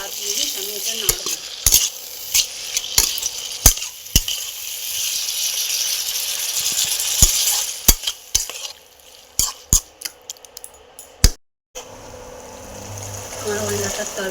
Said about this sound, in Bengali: চিংড়ি মাছগুলো এর মধ্যে দিয়ে দিলাম। 5 থেকে 7 মিনিট আমি এটা নাড়বো।